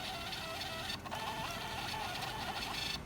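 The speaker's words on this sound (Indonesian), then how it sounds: "kalau misalnya printer bisa melakukan self test sampai dengan finish ya, itu berarti printer siap digunakan" Panda PRJ-R58B gen 2 thermal receipt printer running a self test, giving a steady, continuous mechanical whir and buzz of printing heard up close for a few seconds, with a brief dip midway.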